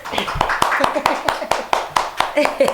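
Hand claps land one after another at a fairly even rhythm, sharp and close, each separate strike distinct against a quiet background during a casual talk show episode.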